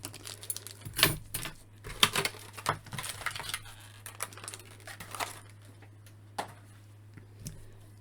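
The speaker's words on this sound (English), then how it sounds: "I'm horrible at getting these weapons out of these little plastic baggies." Small plastic baggies holding Masters of the Universe Origins toy weapons rustle and crinkle under fumbling fingers, with clustered clicks and taps early on that thin to sparse, faint handling noises.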